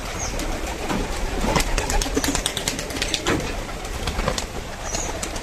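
Low, rolling coos from a pigeon held in the hand after being caught at its feed, near and moderately loud, broken by scattered taps and rustles from handling.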